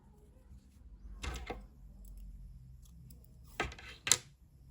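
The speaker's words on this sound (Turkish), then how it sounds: "Beyaz renkli ipliği kesiyorum." Scissors snip through white yarn during crochet work on a baby vest, two short sharp cuts standing out against a quiet room with no talking.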